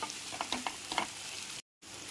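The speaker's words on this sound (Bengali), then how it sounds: "আদা রসুন বাটাটাও পেঁয়াজের সাথে ভালো করে কষিয়ে নিতে হবে।" Ginger garlic paste frying with onions in a pan for chicken korma while being stirred; a soft, quiet sizzle broken by several light scraping strokes, briefly dropping to silence near the end before resuming, no voices.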